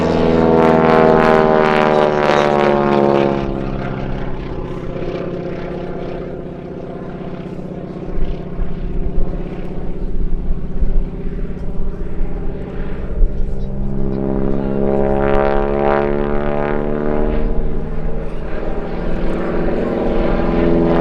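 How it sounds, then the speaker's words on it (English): Stunt biplane at the Sywell airshow 2024 in the UK, flying a loop with a wing walker between the wings: a loud, steady propeller engine drone that swells and eases as the aircraft pulls through the manoeuvre, with commentary over it. "pulling up into a loop as Danielle is laying between the wings"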